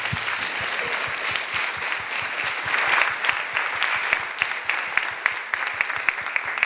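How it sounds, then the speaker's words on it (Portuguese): A church congregation in Brasília applauds for mothers: a thick, sustained roar of many hands clapping, with an underlying steady rhythmic pulse of claps and a few sharp claps standing out near the end. "Vamos dar uma salva de palmas a Deus por todas as mães?"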